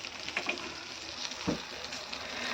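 Eggplant slices fry in hot oil in a home kitchen, giving a soft, steady sizzle with small crackles and pops. The sound stays faint and continuous, and no voice is heard.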